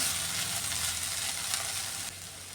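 Ivy gourd and carrot stir-fry sizzles steadily in a pan, a continuous close frying hiss that drops slightly in level near the end.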